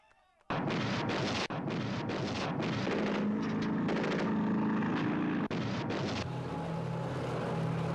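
Heavy weapons shelling the old town of Vukovar: a sustained, loud roar of artillery fire with repeated booming blasts, briefly broken once, continuing without pause to the end.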